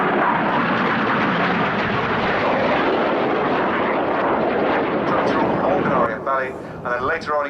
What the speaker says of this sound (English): he's leading synchro as they fly double rolls